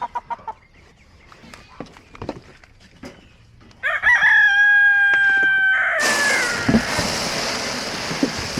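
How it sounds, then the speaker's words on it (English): Scattered soft clucks and scratching, then a loud drawn-out rooster crow, followed by noisy rushing and more fowl calls close by. "You're a hen, aren't you?"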